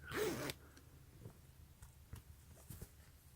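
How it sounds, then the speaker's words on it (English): A zipper on the pocket of Adidas Adicolor tearaway track pants is run open with a close, loud rasp lasting about half a second, followed by faint handling rustles and small clicks of the fabric. "I like this pocket with the zipper"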